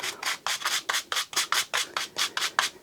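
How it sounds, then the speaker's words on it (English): Rhythmic back-and-forth scrubbing of a Snap-on brass wire brush clearing dust from a Milwaukee M12 vacuum filter, about a dozen quick close strokes at a steady pace with no talking. "I'm just using my Snap-on brass brush."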